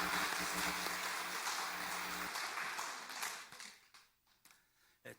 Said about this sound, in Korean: 우리 할렐루야 찬양대 주일 경배 찬양팀 축복하고 격려하는 박수 하도록 합니다